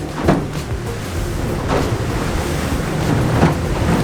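Steady roar of strong wind buffeting the microphone, with rushing water noise underneath and brief louder gusts; no voices.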